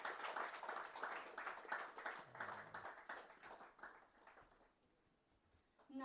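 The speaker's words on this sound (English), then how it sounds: "Give a big round of applause." Audience clapping at a technical conference session during a felicitation, dense applause for about four seconds that fades out toward the end, with a brief voice at the close.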